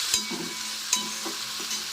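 Salted potatoes frying in a pan give a bright, close sizzle, with a few spatula scrapes and taps as they are stirred.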